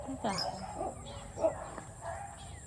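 A dog barks a few times at a distance, faint sharp yips over quiet background with a person talking softly.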